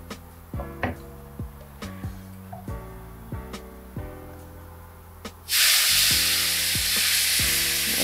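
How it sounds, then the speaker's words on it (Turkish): Cooked syrup poured onto sizzling flour halva while it is stirred: spaced scraping knocks of a spoon in the pan, then a sudden loud, sustained hissing roar as the syrup hits the hot mixture. "Şimdi üzerine pişen şerbetimi ekleyeceğim."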